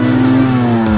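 A two-stroke engine with food coloring added to it revs loud and close, a steady high-pitched buzz with bright harmonics sliding slightly downward over a brief second.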